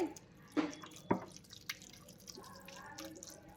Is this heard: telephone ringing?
no